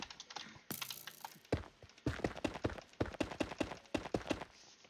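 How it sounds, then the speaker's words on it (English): Rapid, furious clicking on a computer keyboard and mouse during Minecraft play, a dense run of sharp close taps in irregular bursts that speed up into a steady rattling rhythm. "Furious clicking noises intensify"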